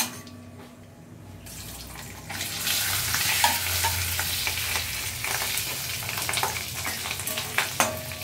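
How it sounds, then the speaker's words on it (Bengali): Fish roe sizzling in hot oil with mustard seed and dried red chilli tempering, a steady close frying hiss that swells after a quiet start, with occasional stirring clicks and no talk. "ডিমটা একটু ভাজা হবে"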